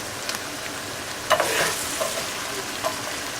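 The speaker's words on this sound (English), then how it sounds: "So as you see that it's sizzling and it's coming." Zucchini sizzles in hot oil in a frying pan while a codfish stew is made, a steady crackling hiss with a few brief stirring scrapes and pops.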